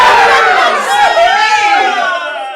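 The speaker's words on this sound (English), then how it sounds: "Children ran off screaming." Children run off screaming as a radio drama effect in a staged Christmas Carol production: a loud, dense burst of high overlapping shrieks and shouts that stays strong and then fades slightly at the end.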